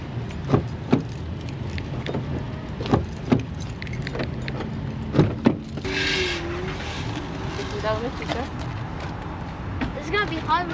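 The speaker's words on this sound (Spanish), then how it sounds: "voy a prender el carro" Keys jangle in several sharp bursts, then a car engine cranks and starts, idling steadily on a street while people talk nearby.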